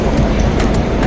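A Madrid metro train rumbles past in an underground station with a steady, loud, noisy roar throughout.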